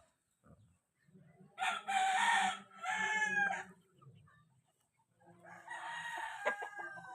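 Healthy four-month-old chickens cluck while a rooster crows loudly and close by, in two long calls, followed by more clucking and crowing with a few sharp squawks.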